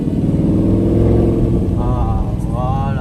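An Audi R8 Spider's engine, heard from inside the open-top car, gives a steady low rumble that builds gently and begins to climb in pitch toward the end.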